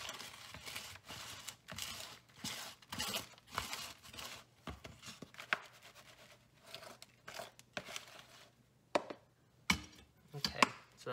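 A small hand rake mixing and breaking up a potting soil mix, producing close, irregular bursts of gritty scraping and crunching separated by short pauses.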